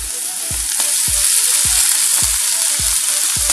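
Shelled green pavta beans roasting in a little oil in a pan, a loud, dense sizzle up close with regular soft thumps of stirring roughly every half second.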